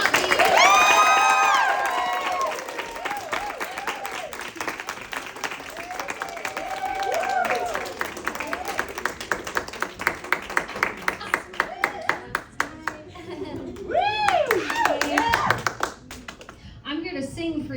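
A crowd at a comedy show in a lodge claps and cheers, loud applause at first that fades into a thinner run of clapping before swelling briefly again, with a host speaking over it.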